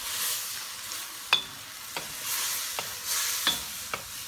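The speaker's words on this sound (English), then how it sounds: "So just gently let it go through the juice of the mango." Banana slices cooking in mango juice in a pan, a quiet steady sizzle with a few soft scrapes and taps of a utensil against the pan.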